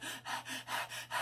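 A voice imitates fast, heavy breathing after exercise, with about six rapid rhythmic breaths that are close and clear but fairly quiet.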